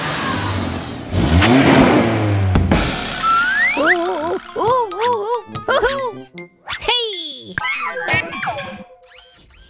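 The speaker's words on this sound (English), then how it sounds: "Let's have a nice loud rev." A cartoon baby dump truck revs its engine in a garage. A brief, loud, noisy rev is followed by animated voices and playful, bouncy sound effects.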